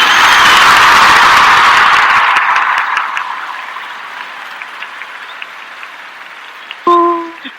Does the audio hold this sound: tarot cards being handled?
no